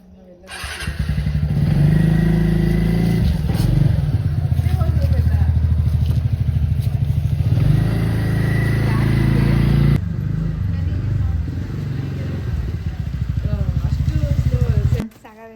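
A new motorcycle riding on a road, its engine droning loud and steady close by with wind noise and a brief drop in the middle, and people talking over it.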